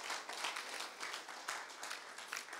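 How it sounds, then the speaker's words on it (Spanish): A church congregation applauds during a Spanish-language Sunday service, a faint, distant patter of many hands clapping steadily for a couple of seconds. "Dele un aplauso a Cristo."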